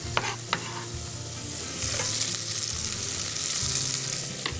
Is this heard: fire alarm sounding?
no